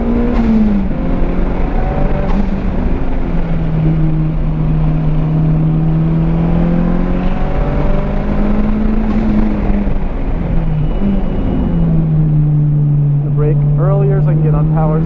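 A Mitsubishi Evo 5 makes a steady, unhurried lap of a race track, its engine droning continuously with rising and falling pitch as it shifts through gears, loud and close throughout.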